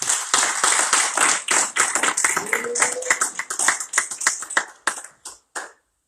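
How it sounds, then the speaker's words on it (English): A church congregation claps hands in praise during a Sunday worship service, a dense burst of sharp overlapping claps that thins out and ends in a few scattered final claps. "Give the Lord a hand clap of praise."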